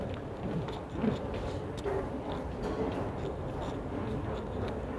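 Steady rumble and rattle of a metro train in motion, heard from inside on a cold day, a continuous dense roar with occasional clanks, fairly loud and close.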